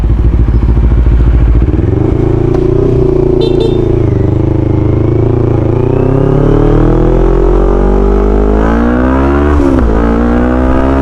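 A re-tuned Kawasaki Ninja 400 motorcycle engine revs loudly and close, climbing in pitch through repeated throttle blips with a dense, buzzy exhaust note that holds steady across the whole stretch.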